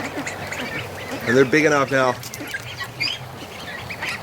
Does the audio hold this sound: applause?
no